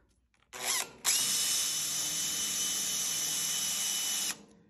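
Power drill boring a starter hole in salvaged kitchen oven parts for a DIY powder-coat curing oven, a brief rev followed by a steady, loud, high-pitched whine lasting several seconds before stopping.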